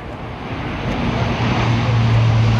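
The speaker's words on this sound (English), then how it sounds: "you'll still hear the sound of the change of the engine propellers as they go into reverse thrust" A propeller airliner's engines roar steadily as it lands at an airshow, swelling louder as the propellers go into reverse thrust and a low drone deepens and thickens toward the end, with no voices.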